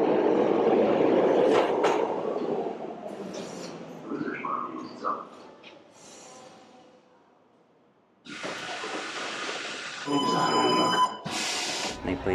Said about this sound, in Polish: No i pojedziemy sobie linią metra,